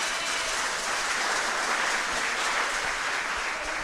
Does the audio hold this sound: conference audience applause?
yes